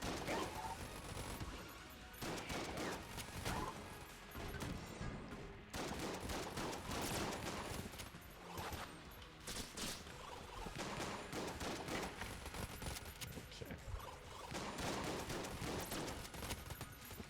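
A Vulcan cannon in the Enter the Gungeon video game fires continuously in dense, rapid bursts, a loud nonstop barrage of gunfire with brief breaks, with no voices over it.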